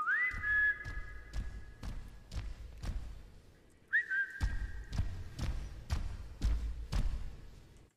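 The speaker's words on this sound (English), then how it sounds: "The whistle is just triggered independently." Game-engine whistle sound effect played twice, each a sharp rising tone settling into a held pitch, alongside a series of regular dull thumps like footsteps.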